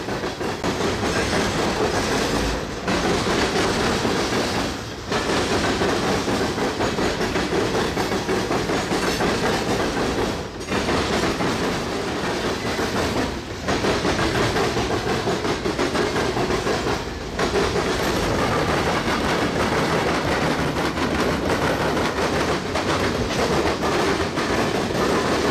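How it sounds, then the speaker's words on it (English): A Norfolk Southern freight train, 116 bound for Portsmouth with a slug set dead in tow, rolls past close by in a loud, continuous roar with steady clickety-clack from the wheels on the rails and short dips between cars. "-940 CW on Norfolk Southern's roster is leading 116 to Portsmouth with the slug set dead in tow."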